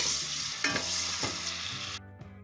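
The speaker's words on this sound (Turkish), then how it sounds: "Sarımsağımızı da ilave yapıp biraz kavuracağız." Onion and garlic sautéing in olive oil in a pan, a steady sizzle with occasional stirring scrapes, close and fairly loud, with no voices.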